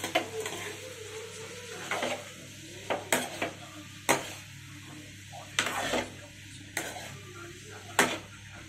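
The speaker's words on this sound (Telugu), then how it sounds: "ఇప్పుడు మిక్స్ చేసుకోవాలి వాటిని." Cauliflower curry stirred in a pan with a spoon, a series of sharp scraping clacks every second or so over a quiet low hiss, with no talking.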